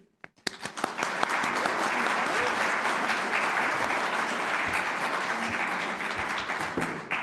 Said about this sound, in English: would you now please join me in welcoming Kirsten with a warm round of applause